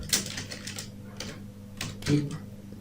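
Keys on a computer keyboard being typed while building a flyer in PowerPoint, soft irregular clicks in small bursts, faint and close, with no talking.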